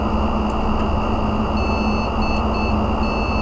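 A computer motherboard pulled from a junkshop PC gives a steady electronic beep on power-up, a thin high tone sitting over a loud, constant fan and motor hum with no talking.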